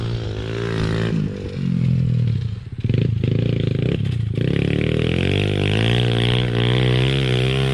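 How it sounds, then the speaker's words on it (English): A mini dirt bike ridden by a grown man in sand outdoors, its small engine buzzing loud and steady with rising and falling revs and a brief dip partway through. "That is a grown man outside on one of those mini dirt bikes in the sand."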